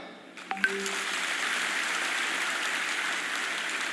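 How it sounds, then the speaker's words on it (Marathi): A crowd of women in an audience claps together at a public talk, a dense, steady burst of applause that starts after a couple of sharp claps and holds evenly to the end. "आता फक्त तुम्ही टाळ्या वाजवा"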